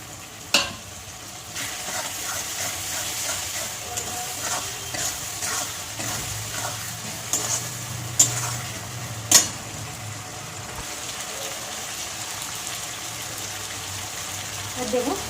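Chopped tomatoes and ginger-garlic paste fry in a pan with a steady soft sizzle, broken by a few sharp scraping stir knocks from a utensil.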